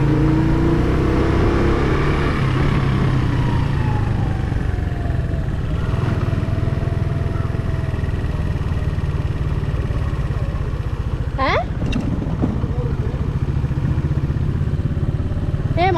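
Steady engine drone of a motorcycle being ridden along a scenic road near Kumari Ella in Sri Lanka, loud and continuous with wind rush and a few brief clattering bumps.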